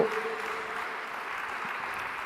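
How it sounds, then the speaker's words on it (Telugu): Congregation clapping in praise at a Telugu Christian worship service: a dense, steady wash of many hands applauding together, fairly loud and sustained for the whole stretch with no talking. "చప్పట్లు కొట్టి దేవుని స్తుతిద్దాం"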